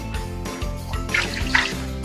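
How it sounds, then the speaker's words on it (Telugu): Water is poured into a pan of Andhra-style egg curry (gudla pulusu) with four eggs, a soft splashing trickle that swells around the middle over a steady background. "కాస్త వాటర్ వేసుకుందాం."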